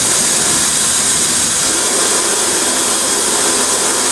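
Loud, steady rush of a high-speed hair dryer blowing air close by, a continuous broadband whoosh with no variation or talk.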